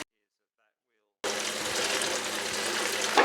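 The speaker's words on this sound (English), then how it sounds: "we pour the dirty terps back into a container" Dirty turpentine is poured back into a storage container: after a second of silence, a steady, close liquid splash and gurgle runs on alone to the end.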